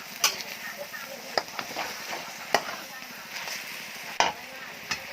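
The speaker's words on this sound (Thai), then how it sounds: "ผัดต่อไปเรื่อยๆ ให้ผักมันสุก" Cabbage being stir-fried with glass noodles and minced pork, with a soft sizzle under repeated scraping clacks of a spatula against the pan, spaced irregularly.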